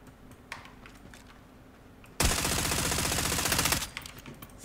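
Automatic gunfire in the video game Farlight 84, a sustained rapid burst lasting over a second, loud and close, with quieter clicks and keyboard taps before and after, no voices.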